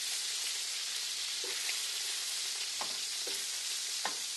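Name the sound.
chicken frying and sizzling in skillet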